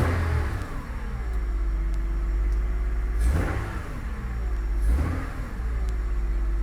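A 2001 Honda Odyssey engine fitted with a short ram intake filter idles with a steady low hum and is revved twice, each rev a short rising surge that swells and falls back to idle, heard up close.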